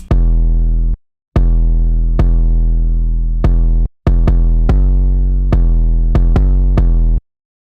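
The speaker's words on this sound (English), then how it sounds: "this is what the first verse 808 sounds like" Deep, booming 808 bass notes hit in an uneven rhythm, some sustained and some short and quick, loud and alone with no other instruments or voices.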